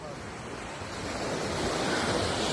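Sea waves washing onto a beach in Boracay at night, a continuous rushing surf with steady wind noise on the microphone, swelling a little louder toward the end.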